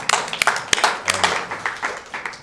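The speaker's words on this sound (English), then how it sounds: "So and give yourself a round of applause." A brief round of applause from an audience at a World War II history talk: sparse, distinct claps close by, irregular and fading quickly.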